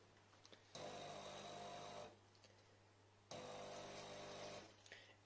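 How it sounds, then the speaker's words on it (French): A De'Longhi Dinamica Plus coffee machine purging leftover milk from its tubes in clean mode pumps in two steady buzzing bursts of about a second and a half each, separated by a short pause, close and fairly quiet. "la machine est en train de purger le lait qui a pu rester dans les tuyaux"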